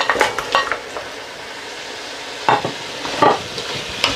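Chunks of mutton sizzle and crackle loudly in a hot pot while a utensil stirs and scrapes through them, with bursts of clattering among the steady frying hiss, heard up close.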